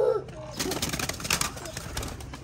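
Pigeons coo and rustle close by amid busy fluttering and scuffling, with a brief voice at the start.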